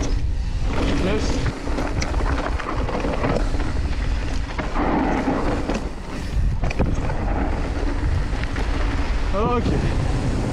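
Steady wind noise buffeting the microphone at a mountain bike park in Vars, loud and continuous throughout, with rushing gusts and brief voices over it.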